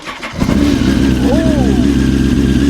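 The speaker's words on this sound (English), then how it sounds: "Emma's going to fire up the Fireblade" Honda CBR954RR Fireblade motorcycle cold-starting in neutral with no revs: a brief starter whirr, then the engine catches and settles into a loud, steady, close idle, with people talking over it.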